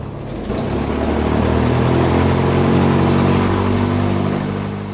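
Cessna 162 Skycatcher light aircraft piston engine taxiing, a steady loud droning hum with low harmonic tones, holding constant throughout without talk.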